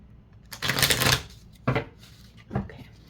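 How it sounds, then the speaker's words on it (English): Tarot cards being shuffled up close: one longer riffling burst followed by two shorter shuffles, crisp papery flutters separated by brief pauses in a quiet room. "shuffle the cards"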